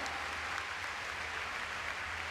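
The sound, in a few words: audience applause at show jumping event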